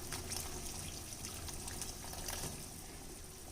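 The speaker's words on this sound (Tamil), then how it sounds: "புளி தண்ணி சேர்த்துடலாம்" Tamarind water is poured into a pot of boiling rasam made with dal, producing a steady, faint gushing and splashing of liquid that continues unbroken for a few seconds.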